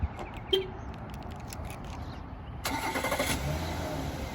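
A 2019 Volkswagen Atlas SEL Premium 4Motion engine starts after a quiet moment, cranking briefly and settling into a steady, close idle.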